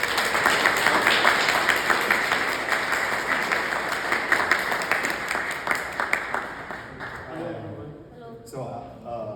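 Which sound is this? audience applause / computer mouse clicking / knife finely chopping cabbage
audience applause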